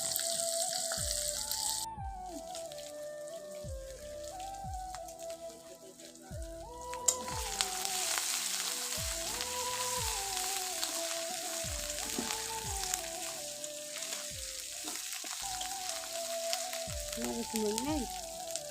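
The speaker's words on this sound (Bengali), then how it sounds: "এটা আস্তে আস্তে ভাজা হচ্ছে" Fish fries slowly in oil with a steady, soft sizzle that grows fuller partway through, running under melodic background music throughout.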